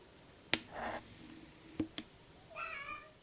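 A cat meows in a workshop, producing a drawn-out meow after a few sharp taps and knocks, quiet and close.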